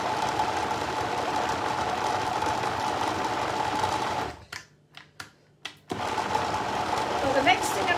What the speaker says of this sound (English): when you put them through this Magi Mix, it just grinds them all up